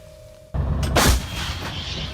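An AHS Krab howitzer fires an artillery shell: a single loud, close blast that hits abruptly and then rolls into a long rumbling decay, with no talk.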